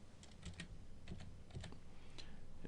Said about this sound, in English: I'll just type in a word.